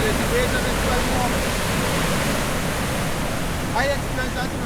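Ocean surf at Paria Bay, a steady loud wash of breaking waves filling the whole stretch, with faint bird chirps rising above it near the end.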